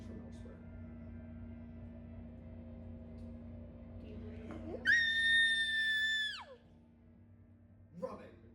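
A single loud, high-pitched shriek rises sharply, holds for about a second and a half, then drops away over a steady low hum, heard during a Kids on Brooms tabletop role-playing session.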